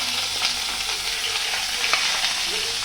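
Chopped onions sizzle and fry in a pan for pav bhaji bhaji, giving a steady, close crackling hiss with faint stirring scrapes and no voices.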